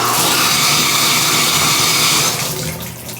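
Hotel bathroom tap turned on to test water pressure, a loud steady rush of running water that tapers off toward the end.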